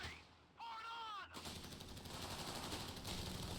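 Machine gun fire from a light machine gun in the real-time strategy game Company of Heroes 3, a dense, loud rattling burst after a brief whistling effect, continuing steadily to the end.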